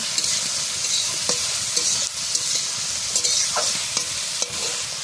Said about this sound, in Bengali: একটুখানি নাড়াচাড়া দিয়ে নিলাম, দেব পরিমাণ মতো লবণ, আবার একটু নাড়ব